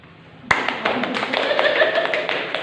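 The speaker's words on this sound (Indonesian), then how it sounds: "Tepuk tangan untuk kita semua" A group of teachers in an Indonesian school training session breaks into applause, starting with a sharp first clap and continuing as a dense, even patter of many hands close by.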